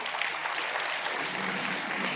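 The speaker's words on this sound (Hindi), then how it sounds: "एक बार जोरदार तालियां और बच्चों के लिए।" Loud, steady applause from an audience clapping for children who made watercolour paintings at the Jaunsar Bawar cultural fest, a dense unbroken burst close by.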